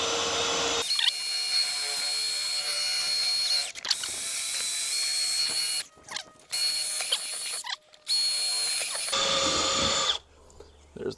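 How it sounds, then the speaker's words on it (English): A power drill whirs steadily with brief stops and restarts, its motor grinding as it bores oversized holes for a cargo box on a Ford F-150 truck camper, close by. "So now we should be able to drill them out."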